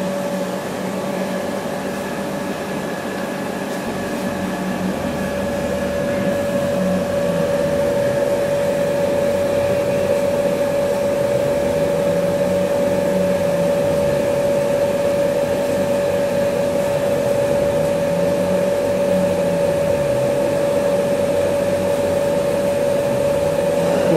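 A Keyland laser cutter runs after starting its job, giving a loud, constant machine drone with a steady tonal hum and fan-like whoosh that holds unchanged throughout, with no voices over it.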